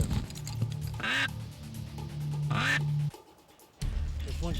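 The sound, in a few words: ducks quacking on a river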